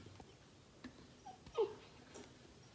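A small dog whimpering at a door, shut out of a room: faint, soft whines and a brief louder yelp in the middle over a quiet indoor background.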